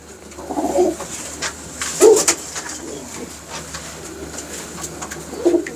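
A prized breeding pigeon coos in soft, low bursts, a few separate calls near the start, middle and end, close by in an otherwise quiet setting with no talk.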